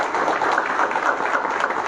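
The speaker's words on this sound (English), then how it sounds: "Let's clap for him also." A short burst of steady applause from a crowd, dense clapping with no voices standing out.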